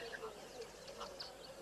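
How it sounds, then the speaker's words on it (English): A Diederik's cuckoo calls faintly at a safari lodge in summer, its short, high repeated notes sounding over the low murmur of staff talking in the background. "lovely summer sounds there with the Diederik's cuckoo and some staff at the lodge."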